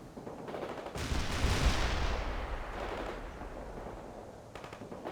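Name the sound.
main gun firing in video game World in Conflict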